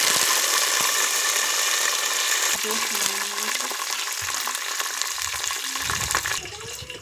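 Green chillies, dried red chillies and curry leaves fry in hot oil, a loud crackling sizzle with stirring that eases toward the end, cooked over a wood-fired stove.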